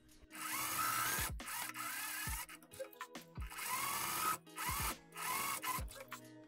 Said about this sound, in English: you're just gonna sew right here and overlock it